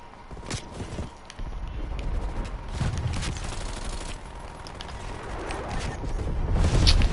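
Turret gunfire in a PS4 video game, a dense, continuous barrage of rapid shots and mechanical clatter that holds steady and swells toward the end, with no talk over it.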